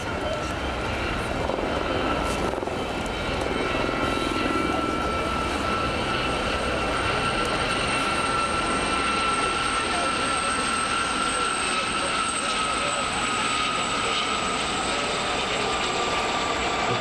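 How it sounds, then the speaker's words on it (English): A Gazelle single-engine helicopter flies a squadron display at the International Ayr Show Festival of Flight 2024, its turbine whine and rotor drone sustained and fairly loud throughout, with a narrator speaking over it. "the fastest single-engine helicopter ever manufactured"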